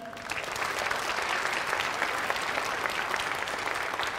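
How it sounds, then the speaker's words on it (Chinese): A hall audience at a tech company's product launch breaks into sustained, dense applause that holds steady throughout. "让我们报以最热烈的掌声"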